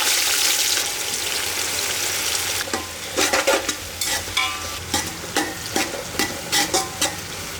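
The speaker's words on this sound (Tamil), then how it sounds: "இந்த வெங்காயம் வந்து நல்லா செவக்க வதங்கிடணும்." About half a kilo of sliced big onions sizzles in oil for mutton dum biryani, a constant close frying hiss, then a run of rhythmic stirring scrapes every half second or so.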